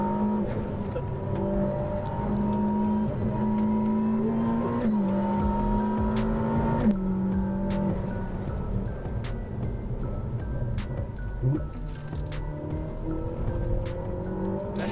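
Ferrari SF90 XX Stradale driven hard, its engine note holding steady and then dropping at gear changes, loud and continuous from inside the car.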